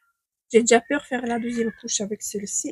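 A cat in heat in spring meows and caterwauls in loud, drawn-out yowls close by, overlapping and mixing with someone speaking French.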